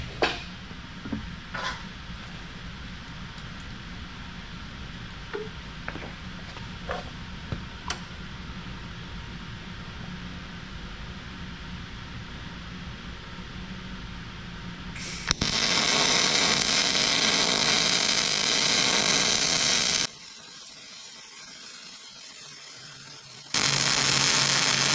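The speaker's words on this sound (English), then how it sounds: "And as it spins around, I'll lay a nice bead on there." A welder lays a bead on a spinning trailer dust cap remover, producing a steady loud crackling hiss with a sharp start, a brief gap, then a resumed burst after scattered ticks and clicks of setup.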